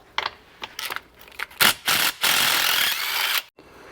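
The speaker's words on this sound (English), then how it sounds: "So now that we've got the bolts out" A ratchet spins bolts out of the tail cone of an NP242HD transfer case in a workshop, producing rapid clicking bursts that merge into longer continuous ratcheting runs before stopping.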